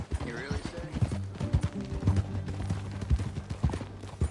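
Horse hooves clip-clop in Red Dead Redemption II, a steady trotting rhythm of hollow knocks over a low hum, with characters talking over it.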